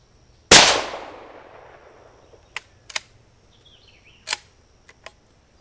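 A Marlin XT22M .22 rifle fires one sharp, loud shot that rings out and decays over about a second, followed by several quieter metallic clicks and clacks as the bolt is worked to chamber another round.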